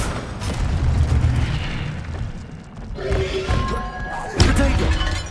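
Spell impacts in the Hogwarts Legacy video game, thudding booms and a shattering crash near the end, loud and layered over game ambience, with no clear speech.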